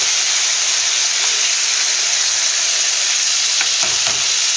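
Chicken pieces fry in a hot pan for a creamy chicken and mushroom pasta, giving a loud, continuous close-up sizzle and hiss with a few brief stirring scrapes near the end.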